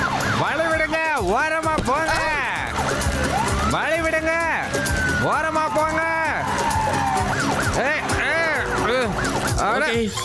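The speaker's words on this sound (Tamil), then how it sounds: "இந்த சைரன் சத்தம் எங்க இருந்து வருது?" A wailing emergency siren rises and falls in repeated sweeps, loud and continuous over a busy background, with people talking along with it.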